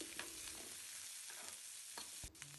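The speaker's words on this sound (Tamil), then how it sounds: "இனி இதில் 4 பல் பூண்டு ஒரு சின்ன துண்டு இஞ்சி சேர்த்து வதக்கலாம்." Green chili, garlic cloves and a small piece of ginger sizzle in a hot pan, with a quiet steady fry broken by a few soft stirring scrapes.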